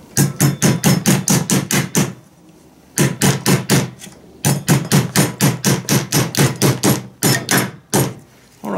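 Rapid, loud hammering while securing a part on a small build project, in fast even runs of strikes broken by short pauses, close up with no talking.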